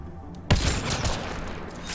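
Gunfire in the sci-fi shooter Mass Effect: Andromeda, a sharp blast erupts after brief quiet, followed by rapid rumbling shots and explosions, loud and dense to the end.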